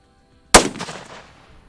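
A single sharp rifle shot from a Browning X-Bolt Hells Canyon chambered in 6.8 Western cracks loudly after a brief silence, then rolls off in a fading echo at an outdoor range.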